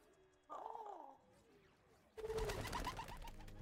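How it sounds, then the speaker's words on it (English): Pigeons wearing tiny backpacks in an animated spy-gadget scene give one short, warbling coo, then a loud burst of broad noise takes over. "Are those pigeons wearing tiny backpacks?"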